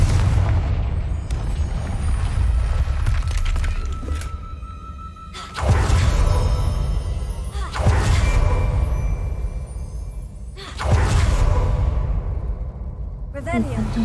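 Confringo blasting spell explosions in the game Hogwarts Legacy, three heavy booming blasts spaced a few seconds apart, each with a sharp onset and rumbling decay, under a man's speech.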